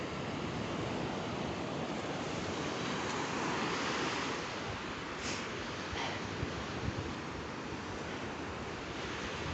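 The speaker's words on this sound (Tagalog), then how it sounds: "Ganda ng alon, no?" Sea waves break and wash ashore in a steady, loud roar of surf, with some wind buffeting the microphone throughout and no talk.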